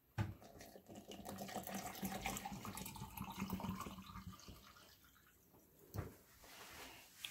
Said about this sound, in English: we're going to add water that's cold this time